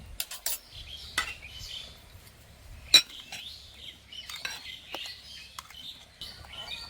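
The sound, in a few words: mixing semolina batter with a spoon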